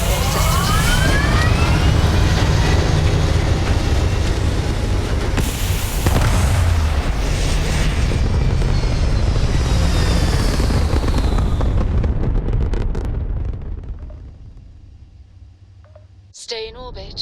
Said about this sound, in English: Liftoff looks good.